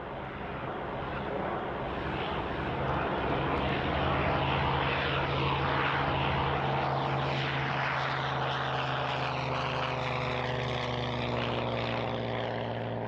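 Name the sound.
Messerschmitt Bf 109 fighter plane engine flying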